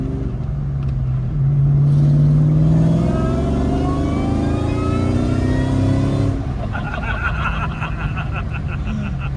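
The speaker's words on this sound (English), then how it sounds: "Ben, let me hear the supercharger whine." A Ford Mustang SVT Cobra Terminator on the move, its engine droning loudly as the supercharger whine climbs in pitch, swelling through the middle, then easing off, with brief laughter from the people inside.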